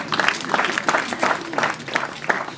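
Applause at a wedding dowry-giving celebration in Gisenyi, a few bursts of clapping rising and falling in waves with voices mixed in.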